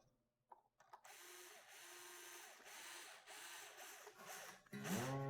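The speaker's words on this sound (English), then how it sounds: "So when you're winding the string," A string on a 12-string guitar is wound onto the tuning post with a peg winder, giving a close, quiet, continuous whirring ratchet with small clicks. The tightening string rises in pitch into a brief twang at the end.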